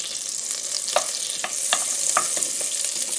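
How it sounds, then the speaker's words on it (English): Two tablespoons of butter melting into vegetable oil in a pot, a close, bright sizzle with a few faint ticks and pops over about three seconds. "I'm going to melt 2 tablespoons of butter in that vegetable oil"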